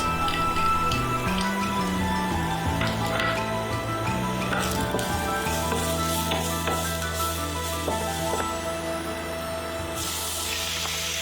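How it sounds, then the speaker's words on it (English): Garlic and shallots fry in a tablespoon of oil, giving a steady sizzle with occasional stirring scrapes and clinks. Soft music plays underneath throughout. "put a tablespoon of oil and fry garlic and shallots until it is fragrant"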